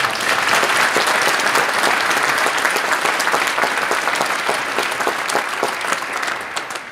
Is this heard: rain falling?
no